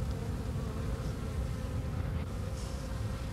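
Honeybees buzz steadily and densely around an opened hive while smoke drives them from the comb, a continuous close swarm hum with no voices.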